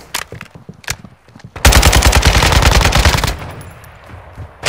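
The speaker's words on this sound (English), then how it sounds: "Taking fire over here!" Gunfire rings out in a Call of Duty battle royale match: scattered single shots, then a sustained loud burst of rapid automatic fire lasting well over a second, followed by more sporadic shots, with no voices.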